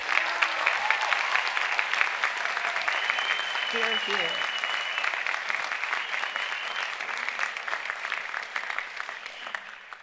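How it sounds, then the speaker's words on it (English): Sustained applause from a graduation commencement audience, steady and loud throughout, with a brief voice calling out near the start. "Can we give them another round of applause?"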